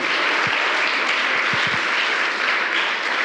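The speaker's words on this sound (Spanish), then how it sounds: "Dale un aplauso a Cristo." Steady, loud applause fills a Spanish-speaking church service as the congregation claps together in a continuous, even roar of many hands, with a few low thumps underneath.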